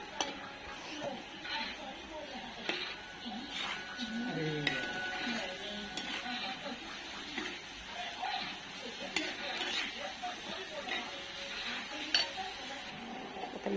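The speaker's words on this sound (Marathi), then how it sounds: "आता ही मिरची चांगली मिक्स करून परतून घ्यायची आपल्याला" Ground chili is stirred and fried in a pan for a spicy eggplant bharit, with a spoon scraping and clinking against the metal over a steady sizzle for the whole stretch.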